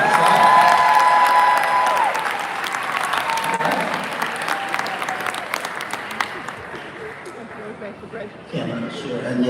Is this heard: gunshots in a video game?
no